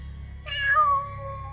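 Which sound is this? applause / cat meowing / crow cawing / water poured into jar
cat meowing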